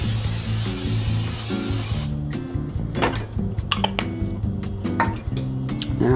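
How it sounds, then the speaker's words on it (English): Cooking spray hisses onto a pizza pan for about two seconds in a home kitchen while making homemade pizza, a steady close burst over background music that continues afterward. "I need to spray my pan first so it doesn't stick."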